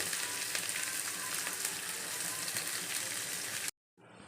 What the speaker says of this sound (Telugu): తాలింపు కొంచెం వేగాక అల్లం ఆనియన్ పచ్చిమిర్చి వేసుకోవాలి